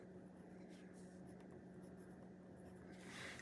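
Fountain pen nib scratching across paper in a quiet room, a soft continuous scratchy rustle with a low steady hum beneath, growing slightly louder near the end.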